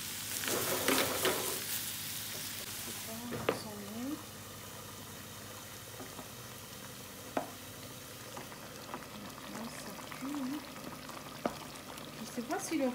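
Tofu, leek and spring onion frying in a pan for a coconut rice dish, with a soft steady sizzle and occasional stirring scrapes, while a person talks intermittently.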